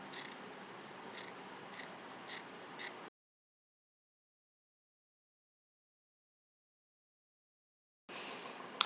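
Sharp scissors snip through felt for a dragon wing craft, four quick crisp cuts close by, followed by a long silence and then faint room sound.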